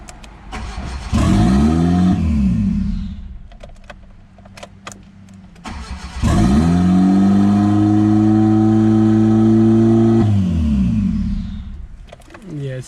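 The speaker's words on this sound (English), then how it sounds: "All right, I'm starting it now." A car engine cranks and catches twice, each time rising into a loud, sustained rev that climbs and then falls back, with an unsteady idle between the two bursts and a short quiet stretch before the second start.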